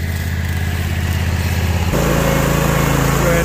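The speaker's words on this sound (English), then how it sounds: "go ahead and put my mower up real quick" A lawn mower engine runs steadily and loudly close by, its drone shifting to a slightly different, fuller pitch partway through, with no talking.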